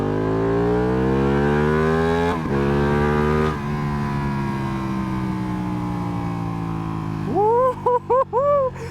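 A 2016 Ducati Panigale engine revving hard, its pitch climbing through several gear shifts, then a few sharp throttle blips at the end.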